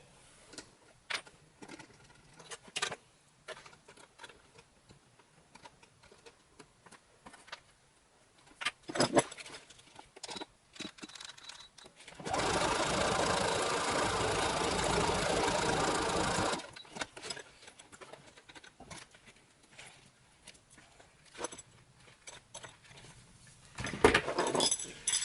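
A domestic sewing machine runs a zigzag stitch on a pilot belt harness for about four seconds, a steady close whirring amid quiet handling noises and clicks.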